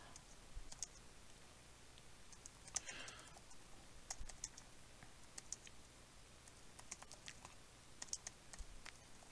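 Quiet, steady typing on a computer keyboard, a run of soft clicking keystrokes with occasional louder taps, alone and close.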